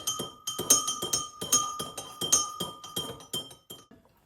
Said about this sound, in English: I'm going to add a pint of boiling water to that. There we are. And then stir it until it's dissolved.